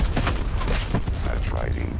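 Scythe minigun firing in Call of Duty Black Ops 4, loud dense rapid bursts with thuds and booms, continuous over two seconds amid game noise.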